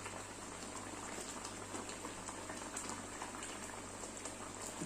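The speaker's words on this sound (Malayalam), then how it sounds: "ഇതൊന്ന് നല്ലപോലെ ഒന്ന് തിളയ്ക്കട്ടെ" Kerala fish curry made with ground coconut simmering in a pot, a low steady bubbling that keeps an even pace and stays quiet and close, no voices.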